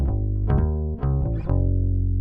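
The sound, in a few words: bass through UAD-610B tube preamp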